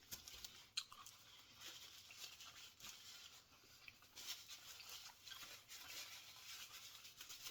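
Someone close by bites and chews a crunchy Taco Bell Toasted Cheddar Street Chalupa, giving faint, irregular crackling crunches and soft chewing noises at very low volume.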